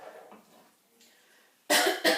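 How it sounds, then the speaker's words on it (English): Two sharp, loud coughs from a man close to the microphone in a kitchen, following a quiet stretch of faint background sound. "I'm still having issues with my coughing"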